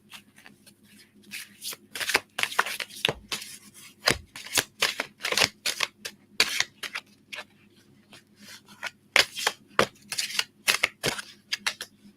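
Oracle cards being shuffled by hand during a psychic reading, giving repeated bursts of crisp riffling and slapping that come in irregular clusters, fairly close and moderately loud, with no talking.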